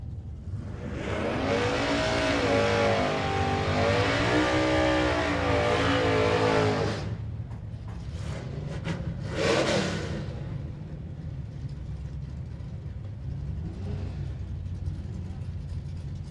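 Drag racing cars at Hot Rod Drag Week 2012 launch down the strip, a loud rising engine roar for several seconds that cuts off, followed by a shorter distant revving burst and lingering crowd and announcer talk.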